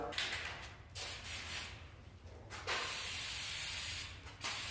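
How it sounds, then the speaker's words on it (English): Undercoating from a spray can hisses onto the underside of a Cutlass in several bursts of varying length with brief gaps between them, heard up close and fairly loud. "Let's spray her up."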